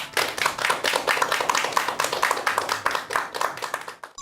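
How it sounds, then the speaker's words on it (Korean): Audience applause at a lecture event, a dense, steady crowd of clapping hands lasting about four seconds at close, even loudness before tapering off at the end. "여러분들 큰 박수 부탁드립니다."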